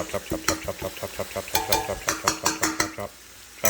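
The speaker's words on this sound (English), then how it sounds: "you put in your meat, you brown it" Ground meat for chili browning in a pan, a spatula knocking and scraping in a quick regular rhythm over a steady sizzle, close and fairly loud, no speech.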